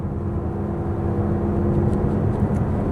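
A 2026 Mazda CX-5 Preferred crossover with a 6-speed automatic pulls along back roads in sport mode. A steady, moderate engine drone and road rumble fill the cabin without a break, and no one speaks.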